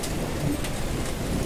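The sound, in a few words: rain falling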